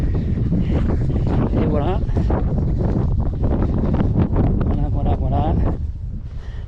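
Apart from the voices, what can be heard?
wind blowing on a seaside footbridge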